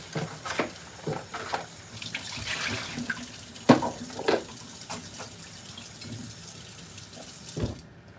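Water runs from a kitchen tap while something is rinsed under it, a soft continuous splash with scattered clinks and knocks of handling at the sink.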